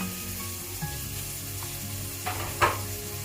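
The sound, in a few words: onion sizzling in a pan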